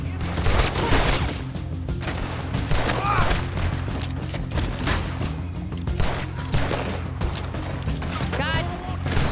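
Rapid gunfire in a video game shootout with police, dense overlapping shots and bursts over a constant rumbling bed, loud and close, with voices shouting over the gunfire.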